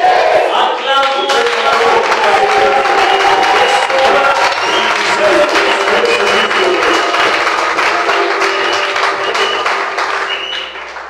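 Church congregation bursts into loud applause and cheering during a Sunday service, dense sustained clapping with shouts and whoops, close and energetic, fading slightly at the end.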